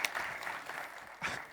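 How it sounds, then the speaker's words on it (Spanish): Small audience at a software talk on code analysis giving a brief, faint round of clapping, a thin patter with a few sharper claps and a short final burst. "Un aplauso, por favor."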